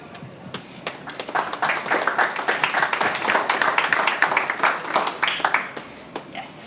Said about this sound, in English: Yes, well-deserved clap.